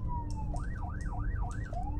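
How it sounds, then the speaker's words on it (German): Wailing police car siren from the video game Bark, a smooth rising and falling electronic tone sweeping up and down about four times over a steady low hum, loud and continuous with no talk. "Hier sind irgendwelche neuen Geräusche. Von einem Polizeiauto?"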